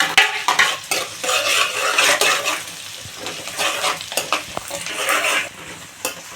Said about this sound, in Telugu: పచ్చిమిర్చి కూడా అనేది ఫ్రై అయిపోయింది